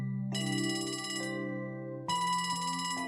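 In the video game Trails From Zero, a communicator phone bell rings in two long bursts of shrill, buzzy electronic tone separated by a brief dip, loud and steady with no one speaking over it.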